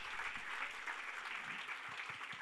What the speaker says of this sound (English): A big hand to all of them. Keep clapping for all of you.